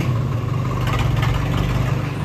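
A Swaraj tractor engine idling nearby, a steady low diesel rumble with a constant throb and mild vibration, loud and unbroken, with no talk.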